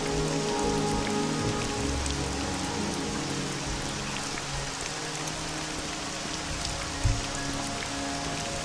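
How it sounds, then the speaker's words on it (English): Steady rain falls in the video game Morrowind, a dense, even hiss of drops on surfaces running throughout, with a brief soft knock near the end and no talk. "And of course, it's still raining,"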